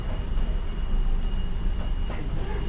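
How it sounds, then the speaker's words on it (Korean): A tourist train rolls past with a steady, continuous low rumble and mechanical hum, moderately loud throughout with no break. "관광열차인가?"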